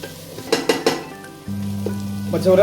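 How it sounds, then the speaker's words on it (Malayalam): Chopped tomatoes sizzle in a pan for a chicken roast while a spoon stirs them, starting with several sharp clanks against the pan and followed by a steady frying hiss close by. "തക്കാളി ഇട്ട് കൊടുത്തിട്ടുണ്ട് ഇളക്കിയിട്ട് നമുക്കൊരു രണ്ട് മിനിറ്റ് ഒന്ന് അടച്ചു വെക്കാം"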